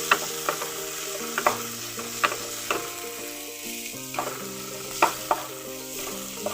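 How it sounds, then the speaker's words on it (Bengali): Chopped onions fried in a pan for a Bengali mixed dal, with a low steady sizzle broken by sharp, irregular clicks of a spatula against the pan, close and fairly quiet. "পেঁয়াজ কুচি, ভালো করে এটাকে লাল লাল করে একটু ভেজে নেবো"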